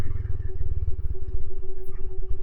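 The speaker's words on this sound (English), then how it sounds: "Oh yeah, you hear that exhaust?" A Royal Enfield Himalayan fitted with a Delkevic exhaust rumbles at low road speed, its close, steady engine thump pulsing loudly throughout.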